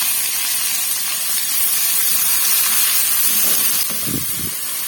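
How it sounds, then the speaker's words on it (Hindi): Chopped onion fries in hot oil with fenugreek, mustard seeds, cumin, garlic and whole red chili, giving a loud, steady hiss of sizzling that runs throughout, with a few faint stirring clatters toward the end. "इसको भून लूंगी मैं अच्छी तरीके से, ताकि हमारा प्याज का कच्चापन खत्म हो जाए"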